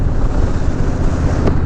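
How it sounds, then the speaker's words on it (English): Wind buffets the helmet microphone of a rider on a Honda Rebel 1100 DCT motorcycle, a loud, continuous rumbling roar of wind noise that fills the whole moment without pause. "It's windy out here."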